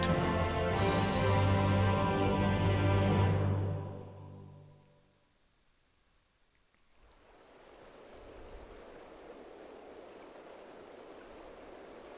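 Water rushes in a broad, steady wash in Final Fantasy XIV. A loud tonal music passage fades out first, then the soft flowing noise swells back in and continues evenly.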